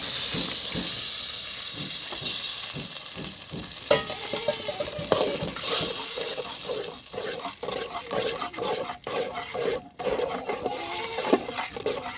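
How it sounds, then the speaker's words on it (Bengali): Potatoes go into a pan of frying masala for a Bengali potato and fish curry, setting off a steady hissing sizzle broken by repeated stirring scrapes. "এই তো মশলা কষে নিচ্ছি, এখন আলুটা ঢেলে দেবো।"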